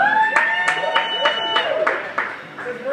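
Audience clapping at a birthday party for Alexis and Maurissa, a steady patter of claps from a small group that runs under a loud voice talking throughout.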